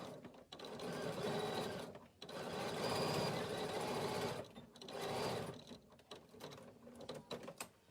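A sewing machine stitches a quarter-inch seam, running in several close bursts of rapid mechanical whirring separated by short pauses and clicks.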